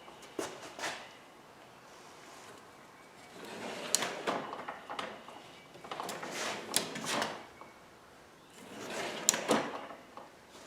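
A toolbox slide-out drawer on metal runners under a workbench, pulled in and out several times in bursts of scraping, rolling glides with light knocks, close and fairly quiet.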